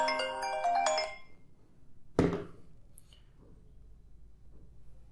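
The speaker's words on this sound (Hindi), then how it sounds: "यहां पे कॉल आ चुकी है मेरे पास, मेरे दूसरे वाले फोन पे" A smartphone plays a short melodic ringtone for an incoming call, a bright chiming phrase lasting about a second. It cuts off into a sharp tap and then near silence, close and clear with no talking.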